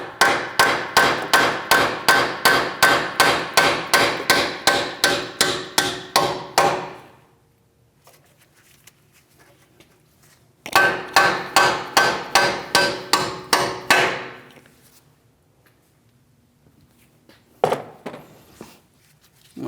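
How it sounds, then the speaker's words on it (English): A hammer taps out splined axle-to-knuckle bolts on a 2016–2025 Chevrolet Malibu during front left CV axle replacement, with two bursts of rapid, evenly spaced metallic blows close up, then a few isolated knocks near the end. "You'll have to tap them out of place."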